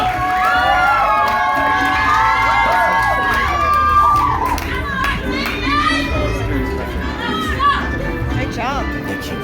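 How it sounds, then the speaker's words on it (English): A poetry slam audience at an arts festival cheers and whoops loudly, a dense crowd roar with high shouts rising above it for several seconds. "Come on, let's keep that applause rolling as we welcome BattleBorn back to the microphone."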